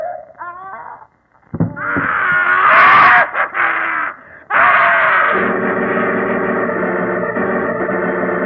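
A ghastly, wailing scream in a 1948 Sherlock Holmes radio drama, long and loud with a distorted, echoing quality, preceded by a higher strained cry and trailing into a sustained moaning tone.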